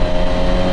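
A motorcycle engine held at a steady loud drone during a downshift, the rev briefly rising and settling over under a second, close and continuous with no voices.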